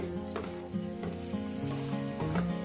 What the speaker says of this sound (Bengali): এইভাবে আমি ভাজছি